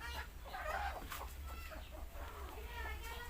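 Hens cluck softly inside a small backyard chicken shed housing local and farm-bred birds, quiet and close against a low steady hum.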